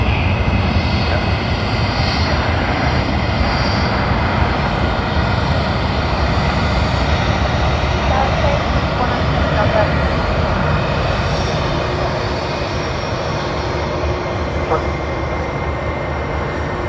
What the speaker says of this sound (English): Then we have Jetstar making its way to runway 34 right.